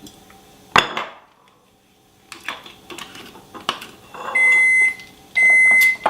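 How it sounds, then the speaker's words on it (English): A kitchen oven signals it has finished preheating with two long electronic beeps near the end, after a sharp clatter of cookware and some soft handling noises in a quiet room. "And that beeping means my oven is ready."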